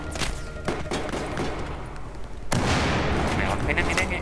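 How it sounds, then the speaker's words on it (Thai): A grenade goes off in the Battlefield 4 video game, landing as a sudden loud boom that is followed by a sustained rumbling roar. It stands out over constant in-game battle noise and scattered gunfire. "คว้างระเบิดไปแล้ว"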